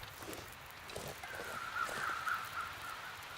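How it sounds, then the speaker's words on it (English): Crows caw in the wilderness of The Long Dark video game, a few rough calls sounding at a distance over quiet ambient background, with no speech. "Alright, I did just hear some birds."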